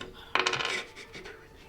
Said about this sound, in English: You hear those dice rolling?